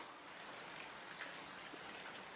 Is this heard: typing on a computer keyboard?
no